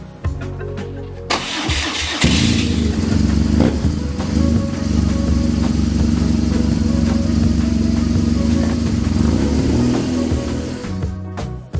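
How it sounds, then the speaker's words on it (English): A BMW 1200 GS motorcycle engine fires up after a short clatter and then runs close and loud, a steady throbbing drone with small swells in revs before it fades slightly at the end. "I ride my trusty BMW to explore Europe's back roads."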